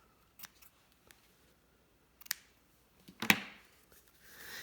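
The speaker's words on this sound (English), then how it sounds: "I'm going to trim those tails" Scissors snip the tails of a ribbon bow in a quiet craft setting, a few sharp, isolated cuts spaced apart with a faint rustle after.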